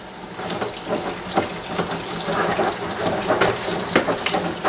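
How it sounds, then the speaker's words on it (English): Very hot tap water runs steadily and close by, splashing as it rinses a Cooper DIY home brew kit container of leftover skim, beer and yeast, with no talking. "So right now I'm just using very hot water."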